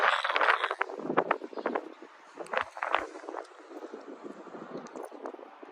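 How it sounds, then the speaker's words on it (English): Steady gusty wind buffets the microphone outdoors near an abandoned fishing boat, a continuous rushing roar with irregular bursts and no talking. "it's freaking windy out here"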